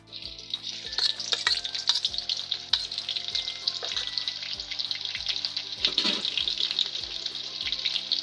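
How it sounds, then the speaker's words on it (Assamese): Onions sizzle and crackle in a hot pan, a dense steady hiss broken by regular tapping or scraping from stirring, close and continuous. "পিঁয়াজটো 2 মিনিটমান ৰঙাকৈ ভাজিব লাগিব।"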